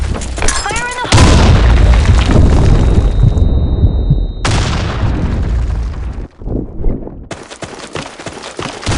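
Grenade blasts in the shooter game BlackShot boom loudly and repeatedly, overlapping with heavy gunfire and battle noise throughout, with a brief lull before the din resumes.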